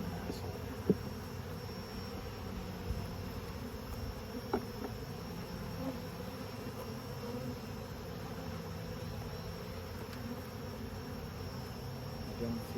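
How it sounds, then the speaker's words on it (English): Honey bees at an open beehive during an inspection, giving a steady low insect hum that fills the whole stretch, with a few faint clicks and knocks over it and no talk. "Oh, that's a bee."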